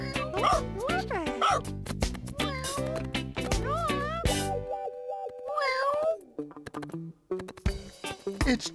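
A cartoonish ginger cat meows in several bright, pitch-sliding calls, mixed with playful yips and barking from a cartoon dog, close and lively.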